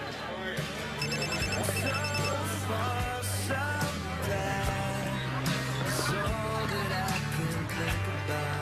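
A mobile phone rings with a repeating electronic ringtone over background music, continuing steadily throughout while voices talk nearby.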